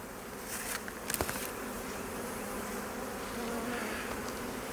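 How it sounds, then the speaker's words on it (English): Honey bees hum around an open hive in a beekeeping yard, a faint, steady buzzing drone with a few brief louder passes close by, and no talking. "this here's a wonderful hive"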